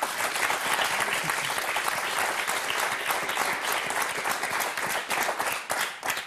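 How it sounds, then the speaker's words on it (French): Dense, steady studio-audience applause on the French game show Motus, a continuous wash of many hands clapping together that holds strong throughout, briefly dipping before swelling again. "Applaudissements pour Myriam."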